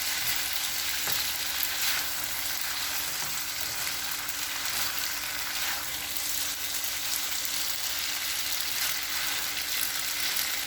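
Garlic sizzles steadily in a hot pan for Hong Kong noodles, a constant bright crackling fry with no pauses and no talking.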